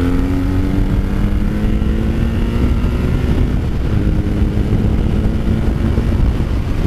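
A BMW R1150R Rockster motorcycle pulls hard after a downshift to third gear, its boxer engine droning steadily and loudly with a gradually rising pitch, heard close up from the rider's position with wind noise mixed in.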